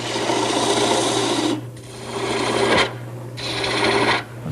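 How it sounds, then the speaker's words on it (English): A turned wooden bed post spins on a lathe while a tool trims its last few inches down into a dowel, giving a steady rasping cut that pauses twice briefly, under a constant low motor hum. "I'm starting to trim down the last 3 inches that becomes the dowel"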